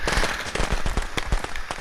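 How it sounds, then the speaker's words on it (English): A pack of firecrackers thrown in the Friday the 13th video game pops off in a rapid irregular string of sharp cracks, loud and close, continuing throughout without speech. "This bitch just fucking threw a pack of firecrackers."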